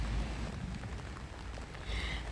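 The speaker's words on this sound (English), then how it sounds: "It's a lovely rainy day as you can see" Steady rain falls over Kelsey Park in London, a soft continuous patter with low rumbling wind or traffic underneath, even and moderately faint throughout with no voices.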